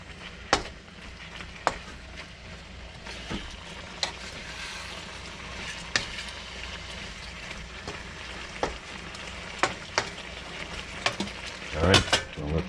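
A stir fry sizzles steadily in an electric wok, with repeated sharp clicks and scrapes of a utensil stirring through it.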